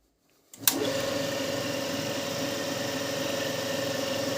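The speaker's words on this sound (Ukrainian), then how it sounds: "Покажу, як він працює в мене." 2M-109 drill press motor running on a run capacitor only, switching on abruptly with a sharp click and settling into a steady, close electric hum and whine with a faint rattling vibration.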